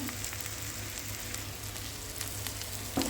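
Ginger garlic paste hits raw prawns frying in hot oil, giving a steady, close crackling sizzle throughout, with a brief clink near the end.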